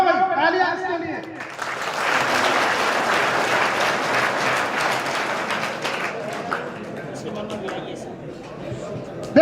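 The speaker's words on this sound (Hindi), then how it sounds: "खड़ा हो भाई, तालियां इसके लिए।" A school audience breaks into loud, sustained clapping for a student after a brief voice at the start, the applause holding strong before thinning out toward the end.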